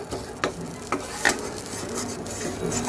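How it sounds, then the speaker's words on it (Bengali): Spice masala being sautéed and stirred in a pan for catla fish curry, a soft steady sizzle broken by a few sharp scraping strokes of a spoon against the pan, close and alone. "আমার কিন্তু মশলাটা খুব সুন্দর মতন কষানো হয়ে গেছে"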